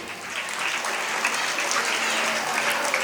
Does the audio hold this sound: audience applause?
yes